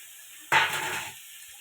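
Chopped papaya drops into a pan of spiced egg and prawn curry with a sudden loud sizzle that bursts out, holds for about half a second, then quickly fades back to quiet pan hiss.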